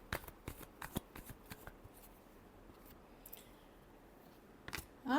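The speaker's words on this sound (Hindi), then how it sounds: "Last shuffle." Tarot cards being shuffled in a short series of crisp riffling bursts, close and fairly quiet, with pauses between flurries and a louder rustle at the end.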